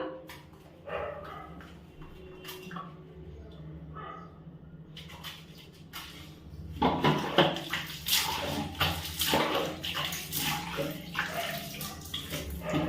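Water splashing and pouring during a home bath, with irregular bursts of splashes growing louder and denser in the second half, and a dog barking faintly early on.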